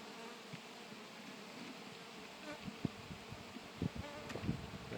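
Bees buzz around a honeycomb frame pulled from a backyard hive, a steady dense hum close by with individual insects droning louder as they pass near, and soft handling sounds underneath.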